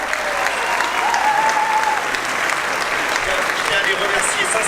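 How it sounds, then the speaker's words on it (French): A crowd at a political campaign launch rally applauds loudly and continuously, a thick wall of clapping with faint voices mixed in. "je vous demande d'applaudir Monsieur Christopher Giges"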